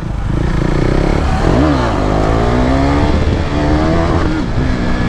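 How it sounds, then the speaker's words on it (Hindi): A KTM Duke 390 motorcycle revs hard during a wheelie, the loud close engine note rising, dipping sharply, then climbing again in a sustained roar throughout. "ये था छोटा सा व्हीली"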